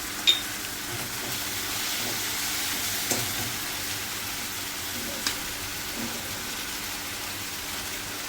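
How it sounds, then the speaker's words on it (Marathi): Cumin, coriander and fennel seeds sizzle and crackle in hot oil in a pan, a steady close hiss with a few light taps of a spoon, no talk over it. "आता आपलं हे जिरं, धणे आणि बडीशेप टाकते"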